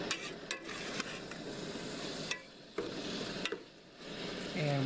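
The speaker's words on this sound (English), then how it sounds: "I'm going to go ahead and give it a stir." Onions for chili beans are stirred in a pot on a camper van stove, with scattered clinks and scrapes of the utensil over a faint sizzle, close and fairly quiet.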